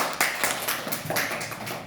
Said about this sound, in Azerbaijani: Alqışlayaq uşaqlar.